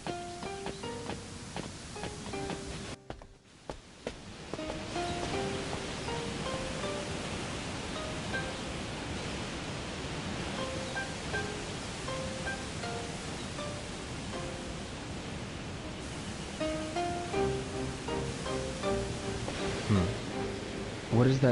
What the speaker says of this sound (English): It sounds like a waterfall.